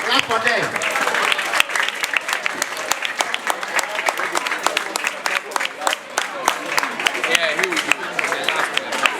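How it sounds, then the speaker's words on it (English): A school audience claps loudly for contestants at an inter-house quiz, a dense, sustained round of many hands ringing close and full for several seconds, with voices mixed in. "So clap for them."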